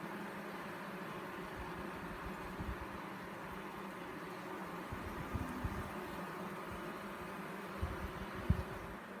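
Honey bees hum steadily at an opened hive with exposed brood and honey frames, a dense, even low buzz filling the scene with a few soft knocks and handling bumps.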